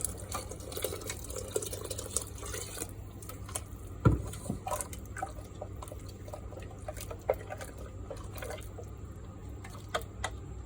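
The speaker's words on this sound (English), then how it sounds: "I'm adding in about another 100 ml of water" Water pours into a cooking pot while making methi kapnya, an Indian pasta dish, as a steady trickle with scattered drips and one sharp clunk partway through, with no talking.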